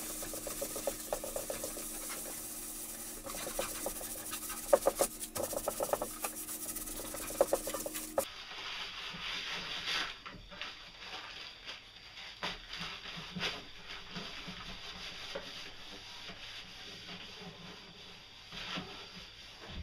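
Newspaper rubs back and forth over a finished wooden board to smooth the finish, a soft, steady papery rasping that grows scratchier in places and carries on quietly to the end.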